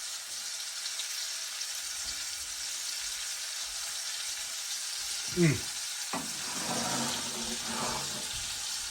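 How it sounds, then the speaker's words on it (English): A steady, crackling sizzle of morel mushrooms frying in hot bacon grease runs throughout, with a brief clatter and stirring sounds near the end. "that's going to be frying crispy in that bacon grease"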